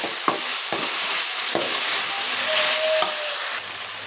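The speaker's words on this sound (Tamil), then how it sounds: "பீட்ரூட் பச்சை வாடை போகிற அளவுக்கு நல்லா வதக்கிக்கலாங்க" Grated beetroot being sautéed in a pan, a soft steady sizzle with a few sharp knocks and scrapes of the spatula stirring at intervals, close and without speech.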